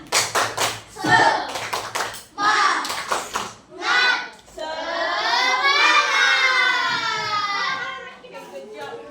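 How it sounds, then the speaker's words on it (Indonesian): Children in a classroom perform a rhythmic clap-and-chant cheer, voices shouting along in time with sharp bursts of clapping, then a sustained sung or chanted phrase. "Tepuk semangat."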